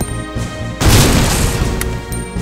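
An explosion in the video game Resident Evil Survivor 2 Code: Veronica, in the clock tower, lands as one loud, sudden boom, followed by a dense rumbling decay lasting over a second against a steady game background hum.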